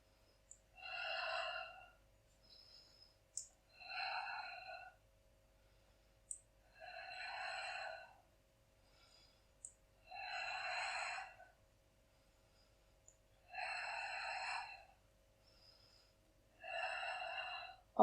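Slow, audible breaths recur about every two to three seconds during a lower-body mobility exercise, six or so airy exhalations close to the mic with quiet pauses between them.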